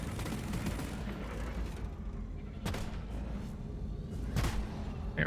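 A gunner's weapon fires sustained bursts of hot bullets in the mining shooter Deep Rock Galactic, making a dense, continuous rattle of gunfire and a rumbling low roar, with a few sharper, louder cracks standing out.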